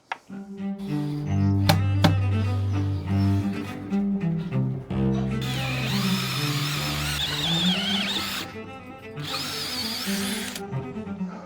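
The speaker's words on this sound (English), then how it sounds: "we put them all on top of each other and then just drill them all at once" A power drill bores through a stack of timber plates laid on top of each other, whining steadily and close for several seconds, pausing briefly, then grinding on again with knocks at the start.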